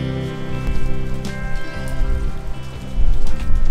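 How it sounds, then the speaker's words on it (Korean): Steady rain falls in a mountain setting, a dense, continuous patter that swells a little louder toward the end, with no voices. "산속인데 비가 오니까"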